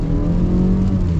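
A 2024 Mazda CX-50 SUV accelerates, its engine droning loud and close in a steady rising hum with no voices over it.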